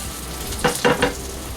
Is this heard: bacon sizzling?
yes